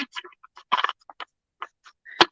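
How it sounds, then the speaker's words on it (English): A tarot reader shuffles a deck of cards during a late-night reading, producing soft, irregular riffles and papery taps in short scattered bursts, quiet and close, with no one talking. "I am shuffling for you."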